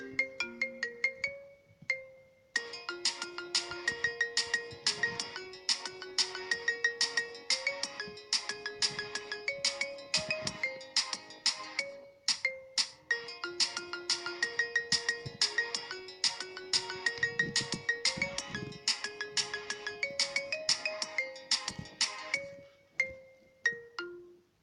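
A song played as a marimba-style phone ringtone: bright, bouncy mallet notes in a steady looping melody, loud and clear with no voices over it.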